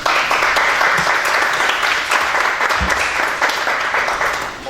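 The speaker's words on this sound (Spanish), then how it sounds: "Les pido un fuerte aplauso para él" An audience at a heritage talk breaks into sustained, dense applause, loud and continuous, with a few sharper claps standing out.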